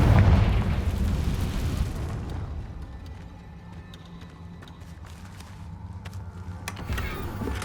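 A Confringo blasting spell goes off in Hogwarts Legacy, a loud booming burst that fills the opening two seconds, then fades into a low rumbling tail with scattered small crackles and faint game ambience.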